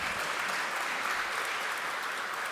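Sustained applause from a crowd at a philosophy and saints gathering, even and continuous clapping throughout with no voices above it.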